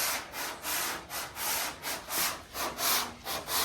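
Hand block sanding on car paint makes a steady back-and-forth rasp, about a dozen even strokes in a close, rhythmic series, with no voices.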